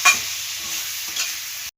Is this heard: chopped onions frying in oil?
yes